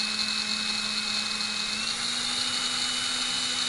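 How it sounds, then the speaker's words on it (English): A small drill bit bores a pilot hole for rivets into the hood of a BMW E46 M3: a steady, close, high-pitched whine held without a break, with no talking. "I'm going to use a small bit and find my hole."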